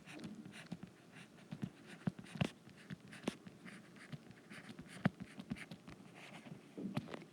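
Chalk or marker strokes writing out a factoring math problem on a board, quiet and close, with irregular taps and scratches as each symbol is formed, no speech.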